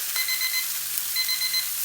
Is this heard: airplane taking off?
no